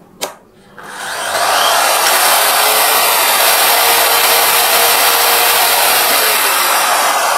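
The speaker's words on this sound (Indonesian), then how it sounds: "Lalu Mas Ferry akan nyalakan switchnya." A DongCheng circular saw, fitted with a soft-start device, clicks on and its motor whine builds gradually over about a second to a loud, steady full-speed roar that continues close by.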